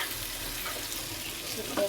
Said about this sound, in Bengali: আমার তরকারির আইটেম টমেটো, আলু, ঢেঁড়স আমি ভালো করে কষিয়ে নেব।